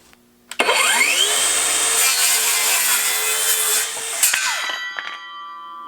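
A Kobalt XTR circular saw cutting wood, loud and near: the motor spins up sharply, the blade bites and holds a steady whining cut for about four seconds, then spins down with a ringing tail.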